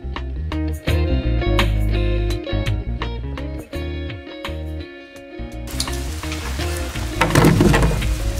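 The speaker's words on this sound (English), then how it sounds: "I got caught in a lot of rain. It was pouring out." Music plays with pitched tones, then gives way to the loud, dense rush of heavy rain pouring down.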